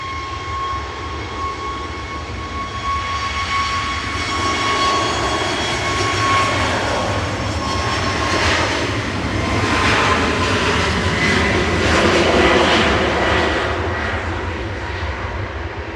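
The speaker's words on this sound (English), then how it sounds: "Tui's going next though on 23 left to Rios, flight 2652." TUI jet taking off from runway 23 left at Manchester Airport, a loud swelling engine roar with a bright high whine early on, building toward a peak near the end, with no talking.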